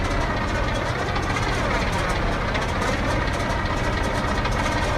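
Allison V12 aircraft engines with superchargers on top, as fitted to a P-38 Lightning, run steadily and loud with a dense, continuous roar that holds unbroken throughout.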